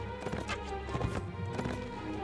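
Galloping horse hooves in the medieval combat game Mount & Blade Warband, a steady rapid clip-clop rhythm running continuously over a droning game soundtrack, with no voices.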